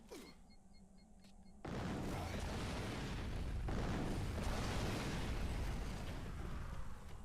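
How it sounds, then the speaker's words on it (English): Grenade blasts in the PS3 game Fracture, gouging holes in the ground: a loud, sustained rumbling roar of explosion erupts suddenly after a quieter moment and stays dense and heavy to the end. "you can't like just throw more than one grenade and dig the holes deeper"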